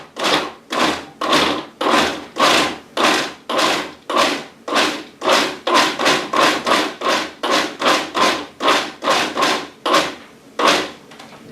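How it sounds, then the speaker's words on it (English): A food processor pulses a mixture of ground beef, bacon and onion in about two dozen short, loud bursts, each separated by a brief gap, with a slightly faster run of pulses midway through. "I'm just going to pulse this a few times."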